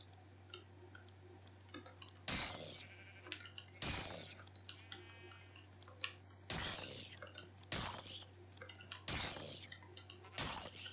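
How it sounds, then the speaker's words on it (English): Sheep bleat in the Minecraft video game, a series of short, sharp calls spaced a second or two apart over a constant low background hum. "Is that a polar bear? No, those are sheep."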